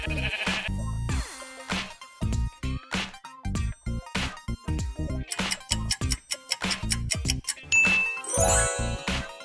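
Minecraft goat bleating from the video game, heard as a busy series of short, bright calls mixed with game chimes, ticks and jingles, loud and close with no talk.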